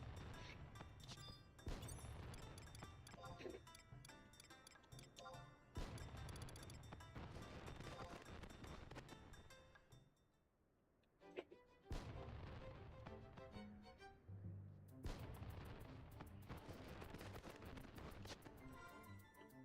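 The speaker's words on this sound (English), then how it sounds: "I think it's a good look at the fireworks from here." Fireworks in the Final Fantasy XI video game, a continuous barrage of booms and crackling bursts with brief lulls, loud and dense throughout.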